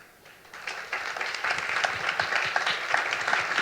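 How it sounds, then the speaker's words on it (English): Audience applause at a medical symposium, a dense wash of many hands clapping that swells after a quiet start and holds steady and moderately loud to the end. "one more time, a nice round of applause for Doctors Michiko Bruno, Jim Spira, Pat Bo"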